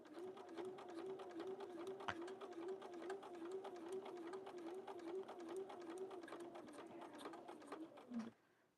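Sewing machine stitching fabric scraps, a rapid, even mechanical whir with a pulsing tick that runs steadily and stops abruptly near the end, close and clear with no talking.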